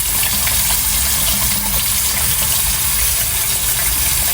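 Water runs steadily from a tap onto orchid roots being softened for repotting, a loud, continuous close gush with no break and no talking.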